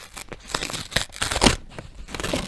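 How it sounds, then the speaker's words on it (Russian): A small paper surprise packet being torn open up close, with crisp tearing and crinkling bursts in an irregular rhythm, loud and alone. "Пакетик очень легко открывается."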